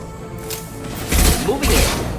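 Concussive shot ability fired in Mass Effect 2 on Insanity difficulty during a firefight with the Collectors, heard as two heavy, booming thuds about half a second apart over a dull rumbling background.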